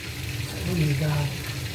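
Fish frying in a pan gives off a steady sizzle with a brief rising hiss in the middle, heard up close.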